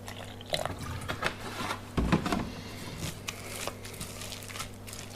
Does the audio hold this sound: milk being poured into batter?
yes